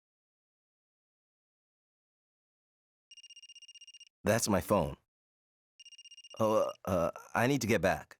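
A phone rings in the video game Another Code, a rapid electronic trill repeating in two bursts a few seconds apart, each followed by clear spoken dialogue.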